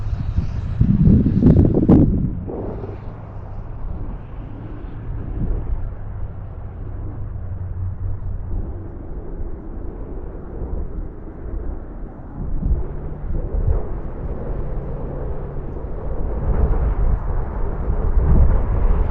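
Steady wind buffeting a microphone in Peace River, Alberta, with low rumbling gusts, strongest in the first few seconds, then a continuous blustery roar.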